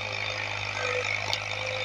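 A tractor works a field pulling a plough, its engine giving a steady, continuous hum with a constant low drone throughout, fairly near and unbroken, with no talk.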